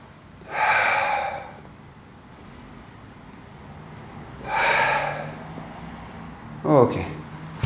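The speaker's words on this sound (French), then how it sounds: "Et on souffle." Sharp, breathy exhalations during a foam roller exercise: two long forceful breaths out spaced a few seconds apart, then a shorter one, close and clear over a quiet room.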